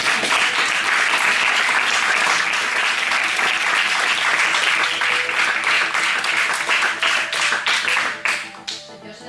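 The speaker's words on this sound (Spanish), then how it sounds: "Un aplauso para el chico" Loud audience applause at a municipal theatre school's musical theatre workshop, a dense, steady roar of many hands clapping that thins and fades out near the end.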